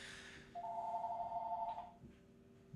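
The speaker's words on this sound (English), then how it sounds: "the phone's ringing" A telephone gives one electronic ring lasting just over a second, fairly faint against a quiet room hum and followed by silence.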